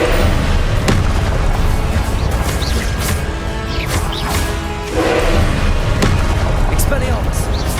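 Confringo blasting spell explosions in Hogwarts Legacy, loud booming blasts and crashes amid continuous battle noise, with voices shouting over the combat.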